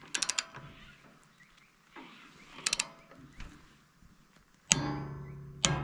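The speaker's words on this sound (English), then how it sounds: "we just do the final tensioning with this socket and the tension wrench. And we're listening for a click, a single click on the downstroke." A socket and tension wrench set to 30 pounds tighten a mill. Close-up, there are small clusters of quick ratcheting ticks, then one sharper, louder click near the end.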